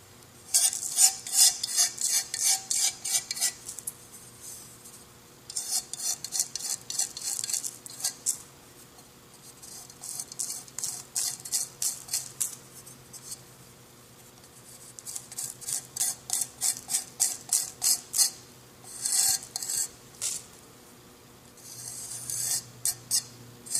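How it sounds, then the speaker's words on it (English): Scraping and sanding away a red glaze on a ceramic mug with a sharp knife and abrasive, heard as bursts of fast, rhythmic rasping strokes with short pauses between, close and fairly quiet. "So I scrape it up, and then I'm using this material to kind of sand in it"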